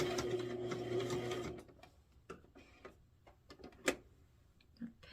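A sewing machine runs steadily for a moment while stitching ruffles onto a Day of the Dead kitchen apron, then falls to scattered mechanical clicks and ticks as the fabric is adjusted. The sound is close and fairly quiet.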